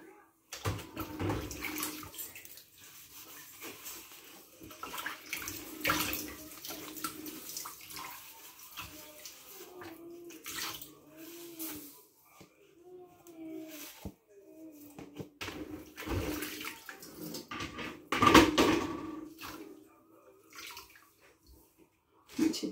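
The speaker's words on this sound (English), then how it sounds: "I grasp it, wash it all around. And just put it back in for a little extra rinse." Dishes are washed in a kitchen sink under running water, with soft splashing, trickling and clinks of plates near and fairly quiet, broken by brief louder splashes.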